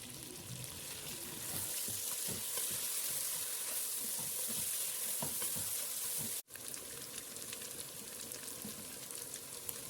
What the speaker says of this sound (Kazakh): Сәбізімізді де салып, оны да 1-2 минут қуырып жібереміз.